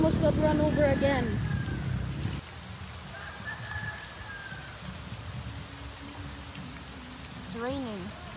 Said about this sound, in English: Raining, getting wet.